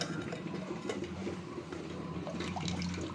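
Cooking water is poured off boiled potatoes and fenugreek leaves in a kitchen pot, a steady, fairly quiet splashing stream running unbroken throughout.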